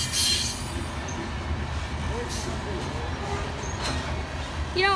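A Norfolk Southern freight train rolls past steadily, its continuous rail rumble and clatter filling the scene, with a brief high wheel squeal near the end.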